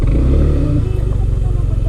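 A motorcycle engine idling loudly and close by at a campsite resort in Lian, Batangas, a continuous rough throb with faint rattling.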